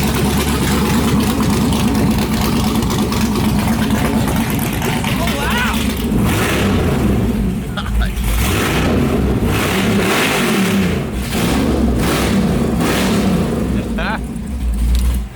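A 1977 El Chromino with headers running straight to pipe revs loudly and continuously, its raw engine roar rising and falling up close, with people talking over it.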